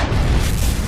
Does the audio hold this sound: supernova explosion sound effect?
yes